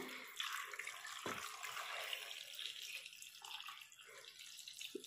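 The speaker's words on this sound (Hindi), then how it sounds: "ये देखिए इतना आपने अभी पानी लिया है अभी अंदाज से हम इसमें डालते हैं" Water being poured by estimate into a pot of plums (aloo bukhara) to make a homemade syrup, a steady splashing pour running throughout, with a brief sharp knock partway through.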